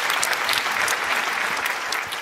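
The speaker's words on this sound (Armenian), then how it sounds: "Այդ պատճառով ուզում եմ առանձնահատուկ ծափարեմ" Steady, dense clapping from a live audience at a televised pop-singing contest with a live orchestra, sustained and fairly loud across the whole moment before easing slightly at the end.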